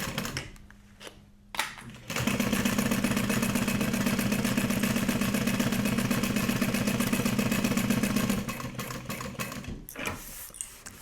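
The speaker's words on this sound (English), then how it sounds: "now we're gonna top stitch across this" A sewing machine top-stitches across a duffel bag pocket, starting after a few soft clicks and running at a fast, even hum for about six seconds before slowing and stopping.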